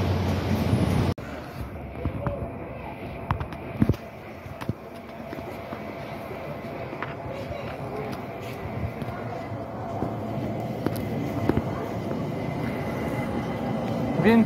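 Inside a train arriving at Wien Hauptbahnhof in Vienna, a steady rumble of wheels and carriage noise runs throughout, with occasional clunks and people talking over it.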